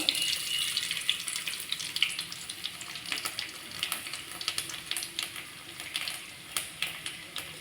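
Onion and vadagam fry in hot oil for a taro root kara kuzhambu, a busy crackling and spluttering sizzle with rapid popping bursts, close and without speech.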